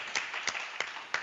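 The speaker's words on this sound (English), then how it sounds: "Let's give a round of applause for Chairman Omali Yeshitela" Four slow, evenly spaced hand claps, fairly faint and sparse, offered for Chairman Omali Yeshitela during a live reparations webathon.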